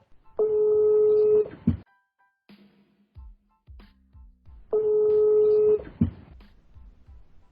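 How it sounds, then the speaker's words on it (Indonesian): A telephone call is placed: two long ringback tones with clicks and short pulses between them, clear and alone with no talking. "telepon deh Pal."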